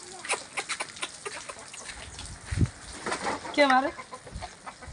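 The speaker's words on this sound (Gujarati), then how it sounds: "જો અમે કુકડો બેઠો." A rooster on a rural farm gives a few short clucks and a brief rising crow, close but moderate in volume, mixed with scattered farmyard noise and someone talking.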